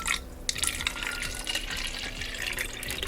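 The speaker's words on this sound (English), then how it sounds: "We have a spray bottle that needs to be filled with water" Water runs into a spray bottle in a steady stream with scattered drips and splashes, a close, continuous trickle with no voices.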